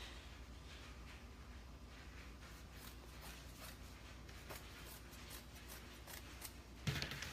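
Scissors cut along the folded edge of fabric for a sewn pillow cover, a soft steady snipping texture with faint crisp snips throughout and a louder clack near the end.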